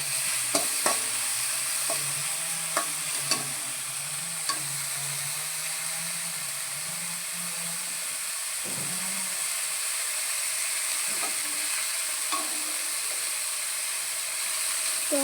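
Greens fry in a pan with mustard, garlic, salt, turmeric and chilli, giving a loud steady hiss and sizzle. A few sharp utensil clicks and stirring scrapes sound close, with no talk.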